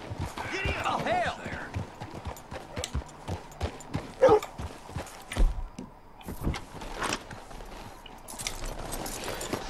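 Horse hooves clip-clopping during a ride in the video game Red Dead Redemption 2, an uneven run of soft thuds mixed with a character's speech and background movement.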